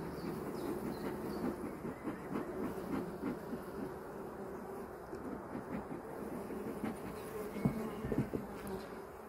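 Honeybees buzz in a dense, steady drone around a top bar hive on a warm May day, with a low rumble underneath and occasional louder passes close by.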